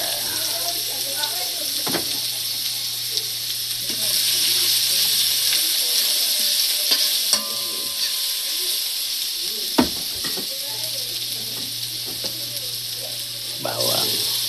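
Ginger sautéing in a hot pan, giving a steady, moderate sizzle and hiss with a low hum beneath it, while voices talk faintly at times.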